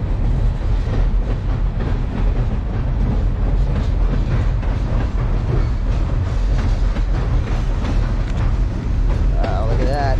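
A long train passes nearby beside a stream, giving a loud, continuous rumble and rattle of rolling cars that holds steady throughout with faint rhythmic clacking.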